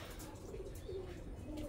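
Pigeons in breeder cages give soft low coos, a few faint murmuring calls over a dull background hum.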